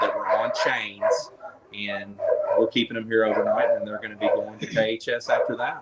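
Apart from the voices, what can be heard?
rescued dogs barking at a shelter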